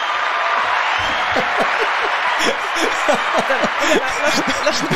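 Steady crowd applause with scattered claps, continuous for several seconds, mixed with a bit of chuckling and chatter.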